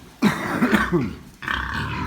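Pigs grunting up close in a farm pen: a burst of several short, rough grunts, then a pause and another low grunt, with rustling around them.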